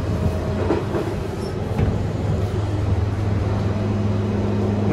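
Steady rumble from inside a moving Transport for Wales Class 230 passenger train, a continuous low drone with faint rattles and clicks, no talking.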